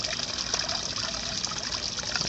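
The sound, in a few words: water trickling into a bottle from a stream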